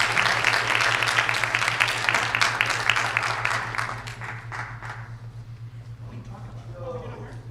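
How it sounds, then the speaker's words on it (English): Audience applauding at a high school presidential debate event, a sustained dense burst of clapping that gradually thins toward the end, with a steady low hum underneath and faint voices mixed in. "Let's hear a round of applause for these guys as we go to a commercial break."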